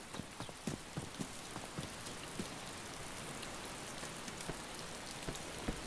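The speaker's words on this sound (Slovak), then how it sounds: "Ono to zase prší." Rain falls in the DayZ video game, a steady hiss of drops with light scattered pattering taps on a surface, continuous and fairly faint, no talking.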